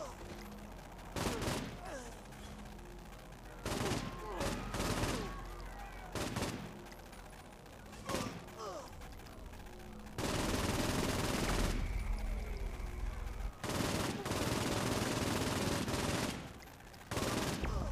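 Gunfire in the Saints Row: The Third video game rattles out in repeated loud bursts and volleys, ending in sustained heavy automatic fire, while a voice talks faintly in the gaps.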